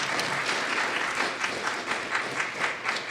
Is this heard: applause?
yes